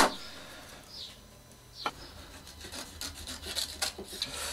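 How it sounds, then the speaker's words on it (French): A blade scrapes and cuts through glue-stiffened fabric stretched in an embroidery hoop, giving soft rasping strokes with a few sharper scratches, close and fairly quiet, with no voices. "Vu qu'il y a un peu de colle sur le tissu est rigide, donc on arrive à passer la lame et à l'enlever proprement."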